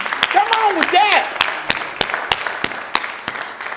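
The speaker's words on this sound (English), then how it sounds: "Y'all need a clap. Come on with that." A church congregation at a Baptist service claps in sharp, spaced single claps that keep a slow steady beat, moderately loud, with voices calling out over the first second.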